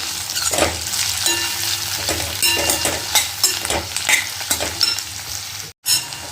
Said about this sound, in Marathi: आता चांगली ती शिजेपर्यंत ही अशीच झाकण ठेवून शिजवून घ्यायची मध्ये मध्ये याला असं थोडंसं फिरवत राहायचं